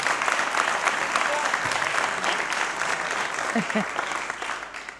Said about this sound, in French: on va applaudir Daouda, c'est bien ça